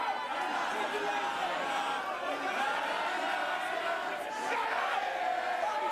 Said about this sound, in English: You can hear the singing in the background.